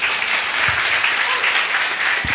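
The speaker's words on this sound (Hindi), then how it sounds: "आप ताली बजा सकते हैं।" A church congregation at a sermon claps in a brief, dense burst of applause from many hands, close and fairly loud.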